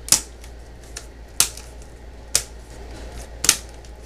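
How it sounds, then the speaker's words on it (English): The plastic power button cover on a Dell Latitude D420 laptop is pressed back into place, making four sharp, close clicks spaced about a second apart against a quiet background. "Go ahead and put the power button cover back on."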